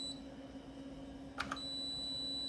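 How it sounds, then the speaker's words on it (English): A short pair of electronic beeps from an Osborne 486 computer failing to boot without its battery rises over a steady hum and faint background tone, two quick bleeps close together, then the hum continues. "that beep's annoying"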